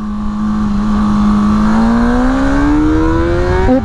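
A 2024 Honda CBR 600 RR engine revs while being ridden, rising steadily in pitch as the rider accelerates through a bend, loud and close with a harsh, buzzing roar and no talking.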